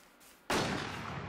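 Sustained gunfire in the survival shooter Infestation, a loud dense burst erupting suddenly after a quiet moment and continuing steadily as a rolling volley.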